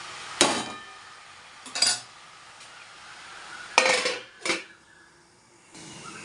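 A lid going onto a cooking pot: a few separate metallic clanks and scrapes, loud and close, spaced out with quiet pauses between them.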